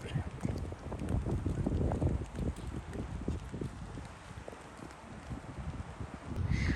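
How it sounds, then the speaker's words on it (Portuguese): Strong wind buffets the microphone at a scenic lookout in Hawaii, a continuous low rumble that gusts louder at the start and end, with faint voices in the background. "Aqui tem muito vento."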